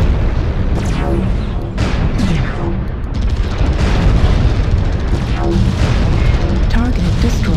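Loud, dense booms and rapid weapons fire in the MechWarrior Online battle game on a frozen city map at night, as a target mech is destroyed amid continuous heavy combat noise.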